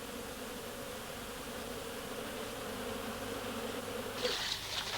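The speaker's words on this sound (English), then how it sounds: "It's a wild bee's nest." Wild bees at their nest give a steady, low droning hum that holds throughout and swells slightly near the end, fairly faint and close, with no voices.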